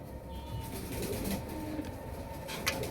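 Silver pigeons and other pigeons cooing in a loft, soft low coos repeating over a steady background hum, with a brief flutter near the end and no talking.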